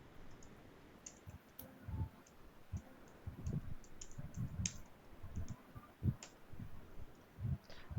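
A computer mouse clicks while SAP software is used, a series of faint, sharp, irregularly spaced clicks against a quiet background.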